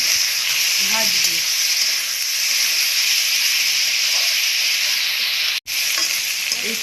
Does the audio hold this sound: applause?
no